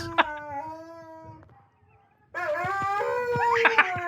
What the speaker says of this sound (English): howling along with some dogs being projected on the wall